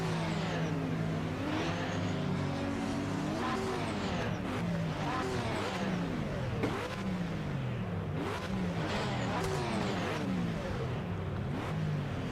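Race car engines from the LMP class in the Project Motor Racing video game, racing at Spa-le-Francorchamps: a steady, loud, revving drone that rises and falls through repeated gear shifts, with voice chatter partly underneath.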